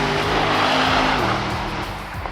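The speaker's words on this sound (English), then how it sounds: "It's just fantastic to hear the engine breathe so freely in a setting like this." Mercedes-AMG SL 55 convertible driven hard on an open road, its engine roaring loudly and steadily with rising and falling revs, then easing slightly toward the end, heard close with no talking.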